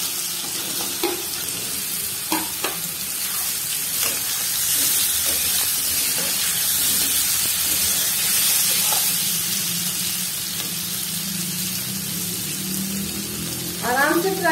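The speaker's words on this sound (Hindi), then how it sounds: "तेल गर्म होने के बाद मैं इसमें केले डाल के फ्राई करूंगी।" Raw banana slices sizzle and hiss in hot oil, a steady frying crackle with occasional stirring clinks and a brief burst of spattering near the end, no voice present.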